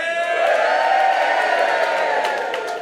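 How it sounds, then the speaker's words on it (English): A comedy club audience at Backyard Comedy Club cheers and whoops loudly, a sustained crowd roar that swells and then slowly eases off. "Oh, guys, don't cheer just yet."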